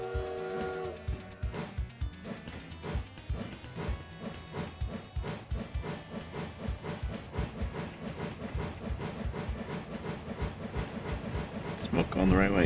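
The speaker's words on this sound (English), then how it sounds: "loud noise is incoming because the train is louder than everything else in the game for some reason" A steam train in the Minecraft RoW modpack chugs with loud rhythmic chuffs and hissing steam over layered tonal whistling that runs continuously and builds toward the end.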